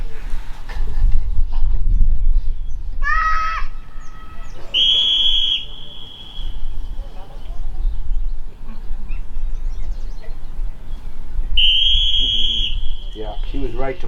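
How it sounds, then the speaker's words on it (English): Sharp, high whistle blasts sound during a retriever dog training workshop in Springboro, Pennsylvania: a short trill, then two longer sustained blows several seconds apart, heard outdoors over low wind rumble. "she was right to blow that whistle"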